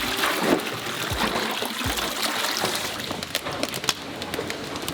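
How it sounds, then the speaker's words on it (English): Vanilla beans being washed by hand in water by workers in Madagascar: trickling and sloshing water with a few soft splashes, close and fairly quiet, without speech. "Next, they wash each bean to remove any impurities."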